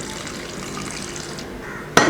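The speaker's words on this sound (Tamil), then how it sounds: "தண்ணி ஊற்றிக்கலாம் ஒரு கிளாஸ் அளவுக்கு" Water poured for tomato juice, about a glass added to blended tomato, runs as a steady close splashing stream and ends in a sharp louder splash.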